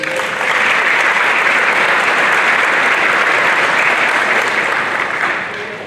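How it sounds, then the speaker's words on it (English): Loud, dense applause from a crowd at a spring sports awards ceremony greets a returning coach, sustained evenly for several seconds before tapering off. "Everybody give her a round of applause, please."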